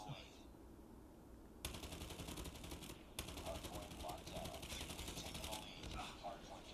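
Rapid automatic weapon fire in the Call of Duty video game, several sustained bursts of crackling shots with brief pauses between them, loud and close over a quieter background.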